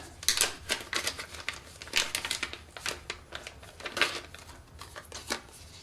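Crinkly packaging rustles and snaps as an earphone accessory is pulled free of its cardboard and plastic, a close run of dry crackles and sharp rustles in irregular bursts with no talking.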